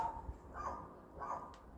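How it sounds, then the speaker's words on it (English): A neighbour's dog barks outdoors at night, two or three distant, muffled barks spaced about half a second apart against quiet background. "Next door's dog's out."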